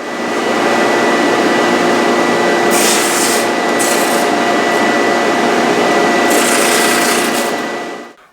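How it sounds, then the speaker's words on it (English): Drum sander thinning shop-sawn wood veneer down to about a sixteenth of an inch. A loud, continuous abrasive rushing hum, close by, with brief hissy bursts of higher grinding as the wood feeds through, then spinning down at the end. "The next step is to go over my drum sander and spend a lot of time getting this down to that 1/16 of an inch thick."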